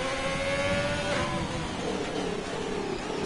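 Race car engines in an F3 racing video game whine and rev loudly and continuously, with rising and shifting engine pitches as cars accelerate, no voices heard.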